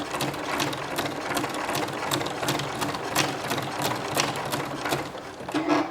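A sewing machine with a ruffler foot gathers fabric, a steady, fairly slow mechanical chatter of rapid rhythmic clicks heard close and alone.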